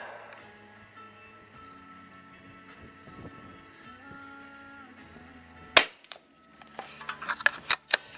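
A Hatsan BT65 .357 Carnivore air rifle, tuned, fires a single sharp shot with a crisp report near the end, followed by a few small clicks and knocks of handling.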